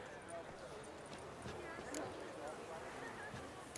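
A horse in The Witcher 3 with hooves clip-clopping and a whinny, faint and set back in the mix under a game score and voices talking.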